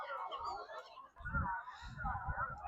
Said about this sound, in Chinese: 整了半天来喂海鸥的